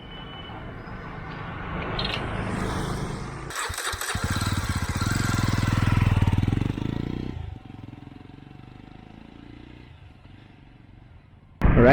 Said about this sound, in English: Now let's ride the bike in some on-road and off-road conditions